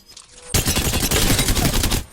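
Rapid automatic gunfire from a gun in an aim-training video game, a loud continuous burst of shots that starts abruptly and keeps going steadily to the end.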